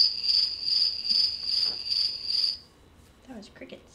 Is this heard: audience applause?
no